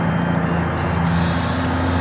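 A truck's engine in BeamNG Drive drones steadily with a low hum, a brief shift in tone as it changes gear, close and loud with no talk.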